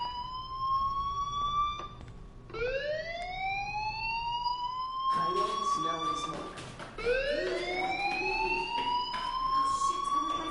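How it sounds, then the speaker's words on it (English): A school fire alarm in the game Life is Strange wails in repeated rising electronic sweeps, each tone climbing and holding, with a voice speaking between the cycles. "do you hear that fire alarm?"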